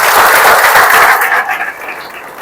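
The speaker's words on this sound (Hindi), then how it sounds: "कंजूस लोग ईशाल को ताली दो, बहुत बढ़िया।" A lecture hall audience at a hotel management college in Pune gives a burst of loud clapping that thins and fades away over about two seconds.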